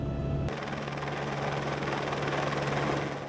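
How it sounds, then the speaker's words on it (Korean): A helicopter from the Korean icebreaker research vessel Araon near an Antarctic glacier produces a steady, loud rotor and engine roar, with a low droning hum throughout. "빙하 근처까지 접근한 대한민국의 쇠빙연구선 아라우노에서 헬기를 이용해 연구원들이 현장까지 이동한다"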